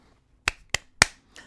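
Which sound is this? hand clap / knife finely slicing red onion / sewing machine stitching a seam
hand clap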